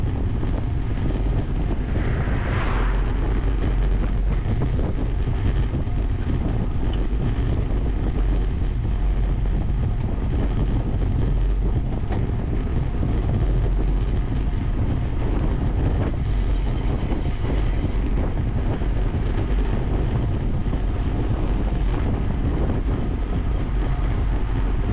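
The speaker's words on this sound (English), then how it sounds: "But that headwind is strong." Strong headwind buffets the microphone of a cyclist riding hard in a group race, a steady loud rumbling roar of wind noise that continues without a break.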